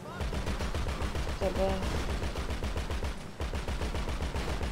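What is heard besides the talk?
gunfire in video game Grand Theft Auto V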